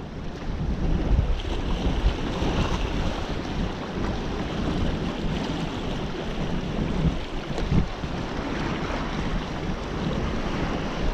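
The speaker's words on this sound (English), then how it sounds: "the only difficulty fishing at the moment is with the wind" Steady gusting wind while lure fishing for bass on the coast in January, a continuous loud broadband roar buffeting the microphone, with surf-like washes rising and falling throughout and no voices.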